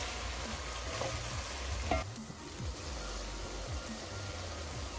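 Carrots and meat frying for plov, a steady loud sizzle close up, with a scrape of stirring partway through and no talking.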